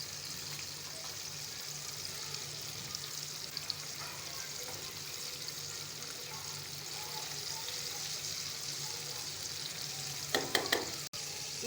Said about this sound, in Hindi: ये देखिए गाइस, हमारी क्रिस्पी चिकन रेडी हो रहे हैं।